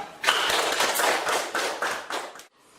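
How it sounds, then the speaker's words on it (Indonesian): A classroom of students claps together in a dense burst of applause lasting about two seconds, close and fairly loud, with the rhythm of many hands overlapping before it stops abruptly. "tepuk tangan untuk Selos"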